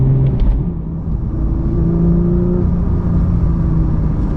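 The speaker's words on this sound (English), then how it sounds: "Now I don't need to use too high of revs, because this 4-liter engine is actually impressively torquey" A Porsche 992 GT3 Touring with a manual gearbox and 4-liter engine drives at moderate revs, a steady loud in-cabin engine drone and road rumble running continuously throughout, with no talking.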